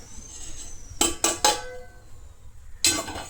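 A large metal thali is handled while lunch is served, giving three quick ringing clanks close together, a pause, then one more metallic clank, with no talk.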